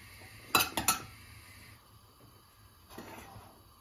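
A spoonful of butter goes into a pan of cooking peppers to melt: a few close metallic clinks and scrapes of spoon against pan, then a single fainter tap, over a quiet kitchen background.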